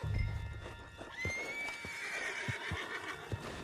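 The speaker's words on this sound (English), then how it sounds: "Put Strauss on the back of John's horse and let's get out of here" A horse in Red Dead Redemption 2 lets out a loud, rising whinny, with soft clip-clop hoofbeats thudding beneath it and after it.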